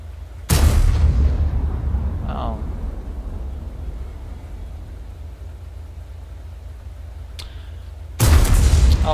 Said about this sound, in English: Let's see if I can fire your gun.